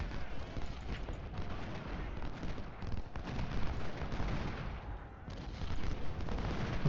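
Dismounted cavalry trade rifle fire in a Civil War battle in Ultimate General: Civil War: a steady, dense crackle of musketry with heavy rumbling gunfire, loud and unbroken across the whole stretch.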